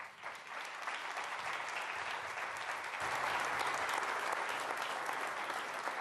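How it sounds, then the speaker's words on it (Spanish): Congregation at a church youth camp breaks into steady, full applause, a dense continuous clatter of many hands that holds evenly and swells slightly in the second half, with no voices over it. "Un fuerte aplauso."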